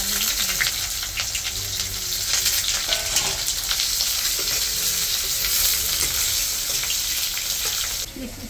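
Cut potatoes dropped into hot oil already seasoned with cumin and bay leaf fry loudly and steadily with dense close sizzling, with some stirring clatter mixed in.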